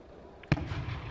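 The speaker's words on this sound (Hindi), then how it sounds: "ये मिसाइल का धमका है" A missile strikes during a live war report near Zaporizhzhia, Ukraine. It is a single sharp, distant thud-like blast with a short echoing tail over quiet background noise.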